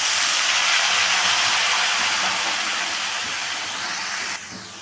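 Bottle gourd hitting hot oil with cumin in a pan, a loud, dense, continuous hiss that eases slightly over the seconds and drops near the end, no talking.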